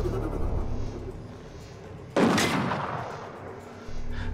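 A single sharp sniper-rifle gunshot from the video game Killzone Shadow Fall bursts out with a brief rumbling tail, set against a low steady game background hum.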